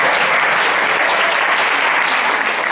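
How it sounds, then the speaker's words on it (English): Loud, dense audience applause from a live talk crowd, a continuous wash of many hands clapping at full intensity throughout the short burst. "Give yourself a round of applause if you participated."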